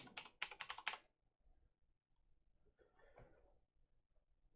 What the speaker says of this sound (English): Type in the password.